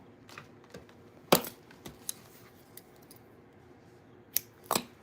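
Scissors snip through crochet yarn at a crochet clutch, a few crisp close cuts with sharp metallic clicks separated by quiet pauses, with no voice.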